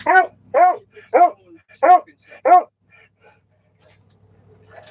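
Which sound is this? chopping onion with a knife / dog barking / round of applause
dog barking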